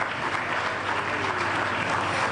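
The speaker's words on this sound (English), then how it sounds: "may we please once again give them a round of applause" A formal awards-ceremony audience applauds women award winners, a dense, continuous wash of clapping from a large room, steady and even for the whole stretch.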